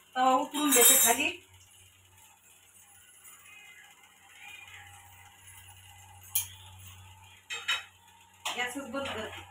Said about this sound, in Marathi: तवा उतरून देते खाली